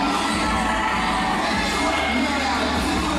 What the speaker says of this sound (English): Pretty lively crowd already.